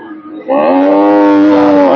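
A pregnant cow lets out one loud, sustained moo at a cattle market, rising after a brief quieter lead-in and holding steady, close by, for about a second and a half.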